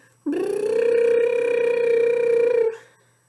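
A single sustained buzzing tone from vibrating lips, as in brass playing, steady and loud for about two seconds, then it stops.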